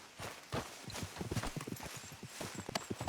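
Horse hooves clip-clop in Red Dead Redemption 2, a quick steady rhythm of close, fairly loud strikes on the ground running throughout with no talk over them.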